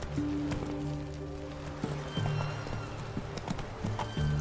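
Roach, the horse in The Witcher 3, galloping with rapid rhythmic hoofbeats and a snort, fairly faint beneath a humming game backdrop.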